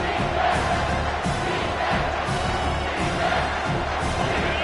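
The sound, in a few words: stadium crowd roaring in College Football 25 video game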